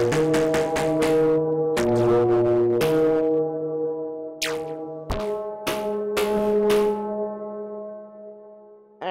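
Boing, a VCV Rack 2 synth patch driven by two macro oscillators through reverb, plays a melodic sequence of bright harmonic tones with sharp plucked attacks and reverb tails, some notes held and some short, with no voices.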